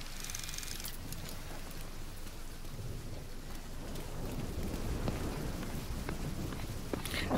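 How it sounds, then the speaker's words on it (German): Steady rain and rumbling thunder fill an in-game storm in The Division 2, a continuous wash of downpour with low rolls of thunder throughout and no talk. "Regen, ja."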